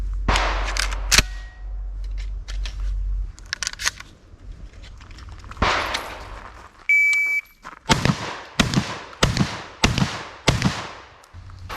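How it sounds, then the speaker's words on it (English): Five sharp, loud gunshots from a Beretta 1301 Tactical shotgun fired at a 25-yard target, coming in a fast, even burst near the end after quieter handling noises and a brief electronic beep. "Beretta 1301, 25 yards. I'm going to shoot 5 from this distance."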